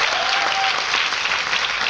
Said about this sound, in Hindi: पर जोरदार तालियां होना चाहिए।